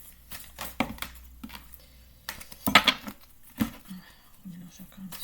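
Tarot cards being shuffled by hand give soft irregular riffling and tapping bursts, close by, mixed with quiet handling noises.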